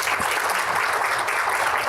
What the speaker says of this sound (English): So once again, a warm round of applause while I step off.